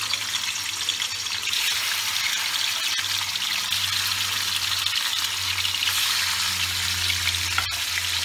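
Snakehead murrel fish frying in hot oil in a pan over a gas flame, a steady close sizzle with a broad hiss that holds throughout, without talk.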